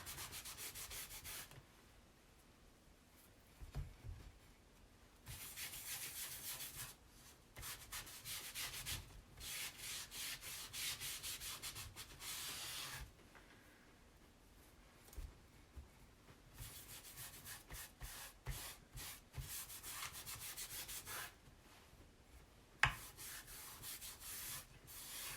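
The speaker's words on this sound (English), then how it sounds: "Okay, so I'm just going to rub this in." Green antique paste rubbed by hand into a chalk transfer on an Easter decoration, a close, soft scratchy rubbing in repeated strokes with short pauses between, steady and alone.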